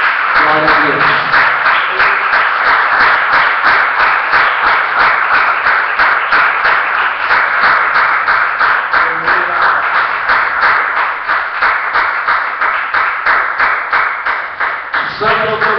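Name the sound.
church congregation applauding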